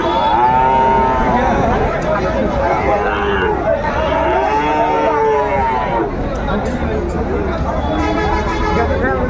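Cattle moo loudly and repeatedly at a busy livestock market selling bulls and calves, long drawn-out calls rising over a constant crowd babble and chatter of people bargaining nearby.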